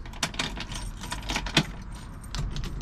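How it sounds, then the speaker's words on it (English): Keys jangle and click in the ignition of a 1965 Ford Mustang with 2,879 miles on the odometer, a series of close metallic rattles before the start, with faint low rumble underneath. "Let's go ahead and fire this thing up."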